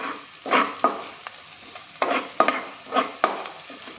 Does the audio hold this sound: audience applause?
no